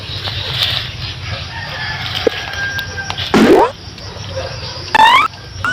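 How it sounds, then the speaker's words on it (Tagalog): A chicken and rooster in a rural yard: soft clucking and scratching run throughout, and two loud, close crowing calls burst out a second or so apart near the end. "Manok."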